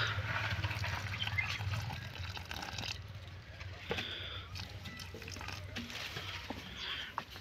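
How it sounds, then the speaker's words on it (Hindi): Water is poured onto freshly planted seeds outdoors as a soft, uneven trickle and splash, fairly quiet, with faint clattering now and then. "तो पानी लगा डालते हैं, तो यही वाला पानी निकाल कर डालते हैं।"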